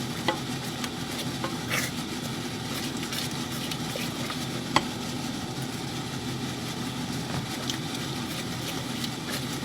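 White sauce for butternut macaroni cheese simmers and is stirred in a pan, a steady soft bubbling and scraping texture with an occasional clink of the spoon, no talking.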